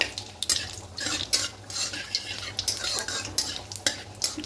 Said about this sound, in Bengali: 2টো শুকনো লঙ্কা দেবো আর কয়েকটা তেজপাতা দেবো, দিয়ে খুব ভালো করে ভেজে দেবো